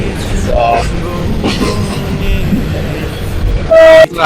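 A passenger train on the Sylhet to Maijgaon line rolls along the tracks with a loud, continuous rumble heard from on board, ending with a short sharp horn toot.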